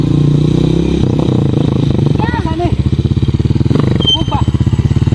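A habal-habal motorcycle taxi engine idles and putters steadily nearby, loud and rhythmic, with people talking over it.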